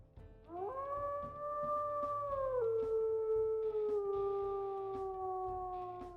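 A single long wolf howl from the video game WolfQuest rises, holds steady, then slowly sinks and fades over a low, soft background hum.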